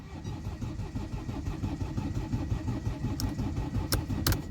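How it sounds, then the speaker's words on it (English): A Mercedes-Benz W204 with an OM651 diesel engine cranks continuously in a rhythmic, chugging churn without catching, close and loud, with a few sharp metallic clicks near the end; the engine has a suspected fuel injector fault. "Now the engine is cranking"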